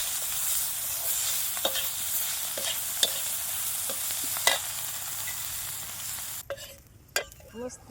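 Food roasting in a pan, a steady close hiss of sizzling with occasional sharp clicks of stirring, quieter in the last stretch where the sizzle drops and scattered scrapes stand out.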